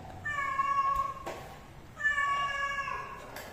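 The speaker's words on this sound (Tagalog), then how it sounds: "May pusa naglalampong." Cats caterwaul while mating, two long, loud, wavering yowls close by, separated by a short pause with a soft thump.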